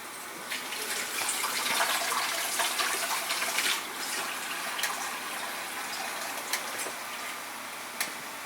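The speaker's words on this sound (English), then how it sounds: "I'm going to add some more water, turn this up all the way up so it gets hot quickly." Tap water pours steadily into a metal canner pot for blackberry jelly, a loud continuous gushing splash with small clinks and knocks throughout.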